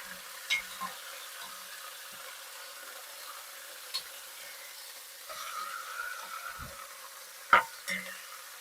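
A roughly 3.5-pound cut of meat sears in a hot pan for birria, giving a soft, steady sizzle with a few faint clicks and one sharper knock near the end.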